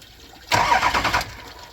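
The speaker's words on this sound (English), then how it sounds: "you're just firing the starter over a little" A Ford Powerstroke 6.0 diesel's starter cranks briefly during an oil cooler flush, a short burst of whirring turnover lasting under a second, then falling back to quiet.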